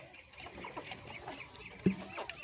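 Chickens feeding on raw quince peels, with scattered soft clucks at moderate distance and one sharper cluck near the end.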